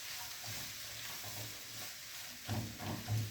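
Onions frying in a pan with salt and seven-spice, a steady low sizzle with occasional stirring scrapes that grow louder near the end; no talking.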